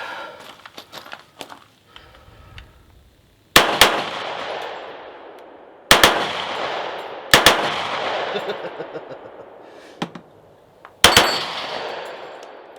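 A Kriss Vector .45 submachine gun with a binary trigger fires on an outdoor range, sharp shots arriving in quick paired bursts several times, each ringing out and decaying before the next.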